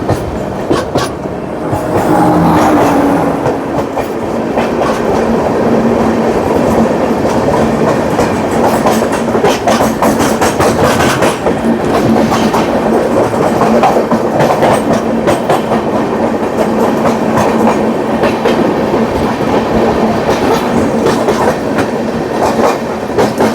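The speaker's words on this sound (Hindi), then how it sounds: "और ये आ गई 12988 अजमेर शालदा एक्सप्रेस" Ajmer–Sealdah Express 12988 passes close by, a loud, sustained roar of wagons with a steady clickety-clack of wheels on rail joints throughout, no voices.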